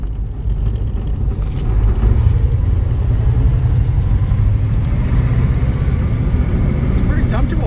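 Interior drone of a 1940 Chevrolet coupe street rod while driving, a steady low engine rumble with road noise, close and continuous throughout.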